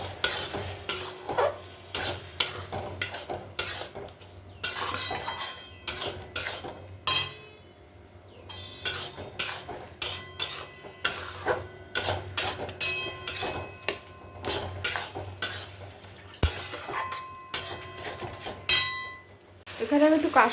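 A tomato and green chili paste is stirred with potatoes in a pan, giving a steady run of sharp metal spoon scrapes and clinks over a low frying sizzle. The sounds are close and fairly loud, with no speech.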